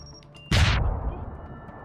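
Explosives detonating in the video game Deus Ex, a sharp loud crack that breaks into a short rumbling boom and then fades.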